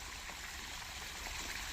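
Water from a pump motor pours in a steady, even rush, a constant broadband flow close by with no breaks.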